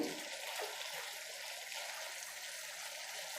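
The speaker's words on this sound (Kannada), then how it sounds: "ನಾನು ಇನ್ನೊಂದು ಅರ್ಧ ಕಪ್ ಆಗೋಷ್ಟು ನೀರು ಹಾಕ್ತಾಯಿದ್ದೀನಿ" Water being poured into a pot of cooking bottle gourd, a soft continuous trickling gush, faint and steady for a few seconds.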